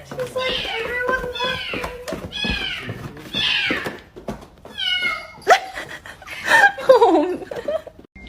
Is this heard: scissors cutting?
no